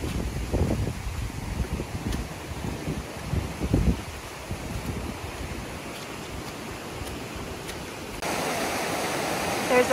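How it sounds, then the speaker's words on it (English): A river rushing through a wooded glen in Scotland, a steady, loud wash of flowing water that continues throughout, with occasional low thuds up close. "There's a fork in the river."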